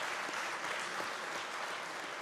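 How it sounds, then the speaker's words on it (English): Audience applause at an international conference on sustainable development, dense, even clapping from a large crowd sustained for a couple of seconds without talk. "give her a round of applause"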